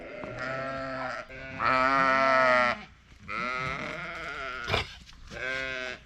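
Sheep bleat repeatedly nearby, several loud wavering calls in a row with short gaps between them.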